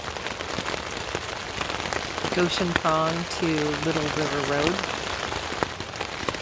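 Rain patters steadily on the Goshen Prong trail in the Smoky Mountains, an even wash of drops throughout, while someone speaks briefly over it.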